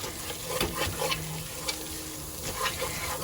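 A silicone or plastic whisk stirring flour into loaded baked potato soup in a pan, soft scraping and swishing strokes over a low sizzle, close and quiet.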